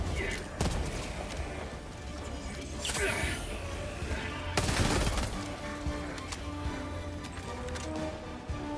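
A grenade detonates in the Helldivers 2 game amid a busy battlefield: a sharp, loud broadband blast cuts through steady rumbling, scattered gunfire and other impacts, with a voice briefly heard.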